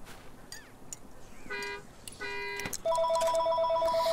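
A phone rings with electronic tones that build from scattered chirps into a loud, steady repeating ringtone.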